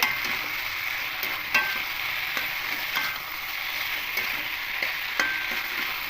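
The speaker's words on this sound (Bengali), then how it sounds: "এখানে পরিমাণ মতো লবণ দিয়ে দেবো দিয়ে খুব ভালো করে মিশিয়ে নেব" Potato and soybean curry frying in a pan while it is stirred with salt added, a steady close sizzle broken by regular spatula scrapes and taps against the pan.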